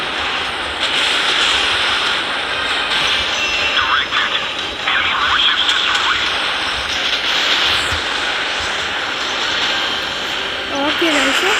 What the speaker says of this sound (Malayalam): നമ്മൾ ഹെലികോപ്റ്റർ വിട്ടിട്ടുണ്ട് കേട്ടോ. ഇതാണ് കേട്ടോ ആ ഹെലികോപ്റ്റർ.